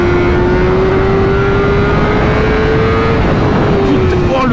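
A 2023 BMW M1000R motorcycle accelerating, its engine holding a steady, slowly rising drone heard from up close, buried in heavy wind roar.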